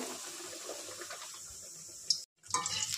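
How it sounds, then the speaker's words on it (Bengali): A slice of pineapple battered for Bengali pakora goes into hot oil and fries with a steady, close hiss. The sizzle cuts out briefly, then bursts back louder. "এবার দিয়ে দিলাম তেলের পরে,"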